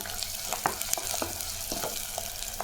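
Onions sauté in a pan for Kumbakonam-style kadappa, giving a soft, steady sizzle broken by scattered clicks and scrapes as they are stirred.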